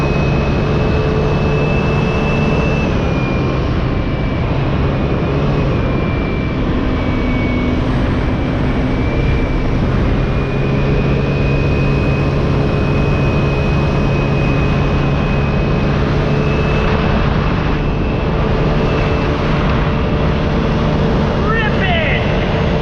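A 150cc Chinese scooter engine with its muffler off runs loud and raw without pause, a constant buzzing drone with a harsh edge that holds steady throughout.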